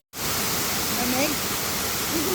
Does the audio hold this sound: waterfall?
yes